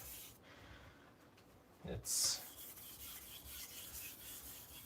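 A knife edge is honed on a sharpening stone with faint, steady rubbing strokes, plus a brief louder scrape partway through.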